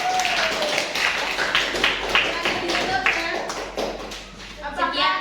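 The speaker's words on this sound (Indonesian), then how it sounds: "Tepuk tangan untuk kelompok 3." Students in a classroom clap for group 3, a brisk, uneven run of hand claps mixed with children's voices and chatter that carry on throughout.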